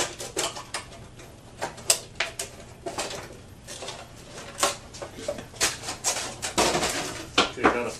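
Shears snipping through a plastic milk jug, repeated crisp crunching cuts in uneven rhythm, close up, with occasional faint talk underneath.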